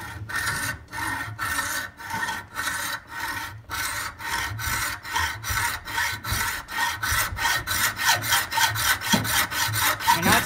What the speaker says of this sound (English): we have a hacksaw